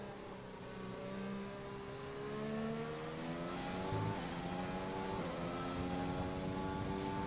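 A racing car on a flying qualifying lap at the Great Britain round: a loud, close engine note climbs and falls through gear changes in a steady unbroken run, with no voices.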